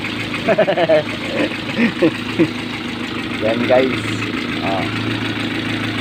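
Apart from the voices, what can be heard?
old engine running at idle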